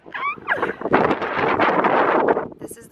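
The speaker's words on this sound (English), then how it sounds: "Day one of Maine, and it's so windy!" Strong wind in Maine roars and buffets the microphone in a steady rush, with a brief voice near the start.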